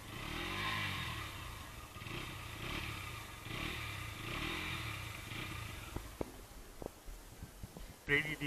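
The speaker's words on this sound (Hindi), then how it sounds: "फटाफट से इसका एग्जॉस्ट नोट सुनते हैं कैसा इसका साउंड है।" A 2021 Bajaj Pulsar NS200 BS6 motorcycle engine runs with a steady, rumbling exhaust note, rising and falling in pulses, then a few sharp clatters and knocks near the end.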